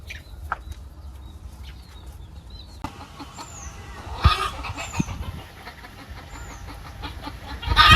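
A hen clucks softly near her chicks in a rural village yard, with scattered bird chirps and other faint farmyard sounds around her.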